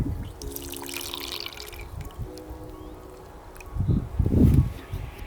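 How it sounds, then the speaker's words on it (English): Water is poured into a planting pot for freshly set seed potatoes, a soft trickling and splashing that swells louder toward the end amid faint outdoor background noise. "now I'm just going to put water into here"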